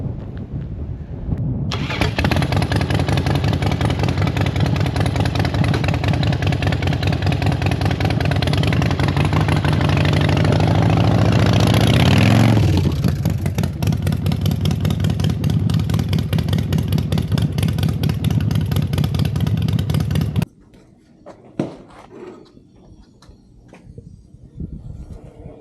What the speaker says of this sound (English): we got 585 cams in it, 585 springs, and it's got a really nasty little sound to it